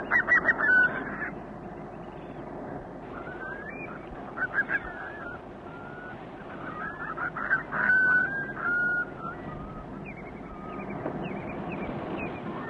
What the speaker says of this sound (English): And a flock of curlew on the tideway.